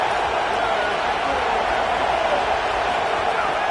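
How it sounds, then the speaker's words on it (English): A home crowd at an American football game roars loudly and steadily in a dense, unbroken wall of cheering. "how nice is it to have the home crowd going absolutely bananas?"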